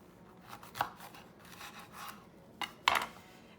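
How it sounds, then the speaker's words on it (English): Knife slicing a jalapeño down the middle on a cutting board, a few soft scraping cuts followed by two sharper chops near the end, close and fairly quiet. "you're gonna cut it down the middle"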